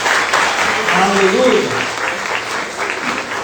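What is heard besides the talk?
congregation applause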